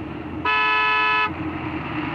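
A car horn blasts in one steady, loud honk lasting under a second, sounded from inside a vehicle during a tense attempt to overtake a slow driver on the road.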